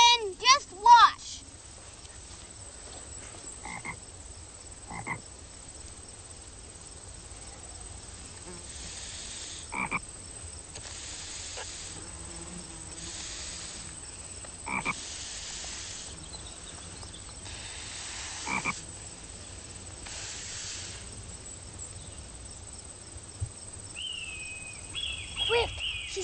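A frog croaks in soft, evenly spaced calls at a rural outdoor spot, with low, steady background ambience and faint chirps running through the whole stretch.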